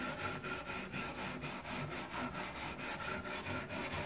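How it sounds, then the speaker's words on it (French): Wax being scraped off an old wooden bread trough, heard as a close, rhythmic rasping of back-and-forth strokes, about three each second, running steadily without any voice. "je vais gratter pour retirer la cire"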